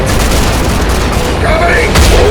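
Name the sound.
enemy gunfire in the video game RAGE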